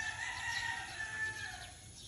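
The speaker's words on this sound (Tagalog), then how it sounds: "namimiss nyo ba yung mga tilaok na mga manok ni Sel?" Several roosters at a rural cockfighting farm crow at a distance, their drawn-out calls overlapping against a faint background hum.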